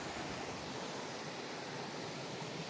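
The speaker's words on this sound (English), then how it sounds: "crawling right next to a nice little stream." Steady rushing water from a small stream beside a trail being crawled by an off-road vehicle fills the scene, a constant broadband roar with no voices or breaks.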